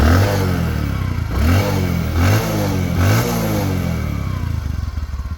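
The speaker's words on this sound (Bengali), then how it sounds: "আর বাইকটা সাউন্ড দেখাবো" A second-hand Bajaj Discover 110 motorcycle with 22,400 km and an original untampered exhaust runs close by, revved in four quick, even blips before settling to a steady, slightly clattering idle.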